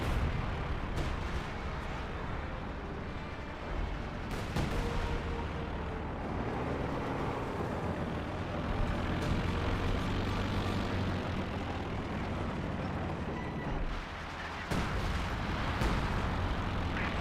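M8 Scott artillery in the video game Company of Heroes 2, a dense wash of battle rumble with several sharp booming shots and blasts spread across it, loud and continuous.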